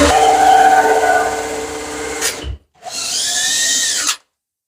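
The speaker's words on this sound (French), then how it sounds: "Maintenant, on envoie la scie cloche." Power drill fitted with a hole saw cutting a hole during attic installation of a single-flow ventilation system, a loud steady whining grind that stops briefly, then resumes with a rising pitch before cutting off.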